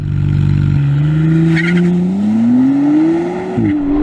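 A McLaren Artura makes a launch start: a loud engine drone climbs steadily in pitch, with a quick gear change early on and another near the end, and a brief tire squeal in between.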